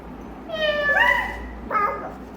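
A voice imitates a cat's meow twice, a drawn-out rising-and-falling call followed by a shorter one, close and clear.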